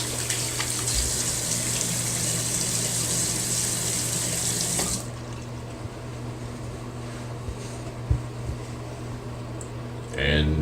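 Tap water runs steadily from a faucet into a sink for wetting a face before shaving, loud and close at first, then weaker, with a few small knocks and a renewed gush at the end.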